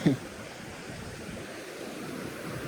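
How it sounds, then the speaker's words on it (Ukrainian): A waterfall on the Southern Bug river near an early-20th-century mill gives a steady broadband rushing roar, with a brief louder thump at the very start and no talking. "Тут такий красивий водоспад"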